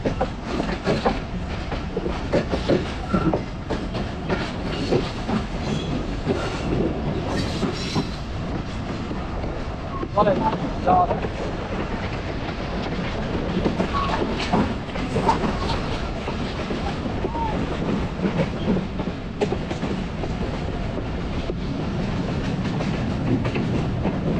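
A passenger train in Bangladesh, heading toward Abdulpur junction, runs steadily on the rails, heard from inside as a continuous loud rumble with rhythmic clickety-clack and occasional wheel squeal.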